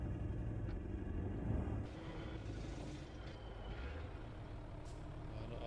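A Ford F-Max truck rumbles along a rough road in a driving video game, its deep engine drone steady and fairly faint, with a slightly louder rough patch early on.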